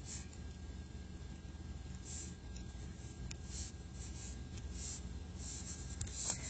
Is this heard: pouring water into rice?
no